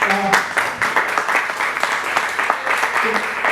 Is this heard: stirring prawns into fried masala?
no